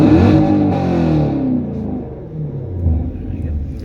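A 2019 Chevrolet Camaro SS with a tuned V8 revs loudly and close by, its rumbling note sweeping up and settling back as the throttle opens and eases, with a deep idle growl continuing afterward.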